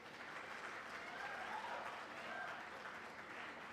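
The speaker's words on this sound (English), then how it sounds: "Come on guys, applause is needed" Applause at an IIT Madras physics convocation, steady even clapping from a seated audience, soft and distant, continuing without a break.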